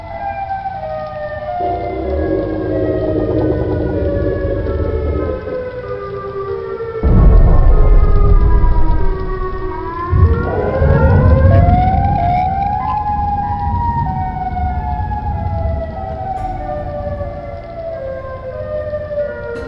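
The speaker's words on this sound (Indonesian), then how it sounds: "suara itu adalah suara sirine yang memperingatkan penduduk" A loud wailing warning siren in Chicago rises and falls over a steady low rumble, swelling sharply partway through before settling back into a long drawn-out tone.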